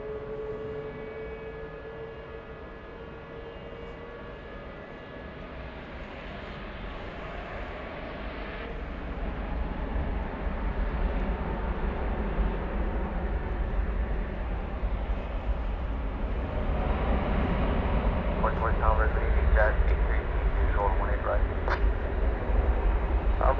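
An airplane moving at DFW Airport: a steady low engine roar that swells gradually and grows louder toward the end, with a faint whine, heard from a distance.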